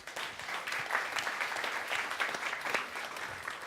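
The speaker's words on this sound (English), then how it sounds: "give a quick shout out and round of applause to all of you guys" Audience applause at a business talk on hiring, a steady wash of many hands clapping at moderate, slightly distant level, no voices.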